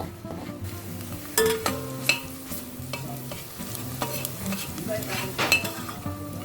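Crushed garlic fries in a pan for a Filipino-style ratatouille, a soft sizzle under repeated scraping and clinking of a utensil being stirred against the pan, close and fairly quiet.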